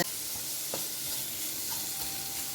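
Finely chopped tomato sizzles in a pan for a prawn and shallot roast, a steady close hiss with a few soft scrapes from stirring and no talk.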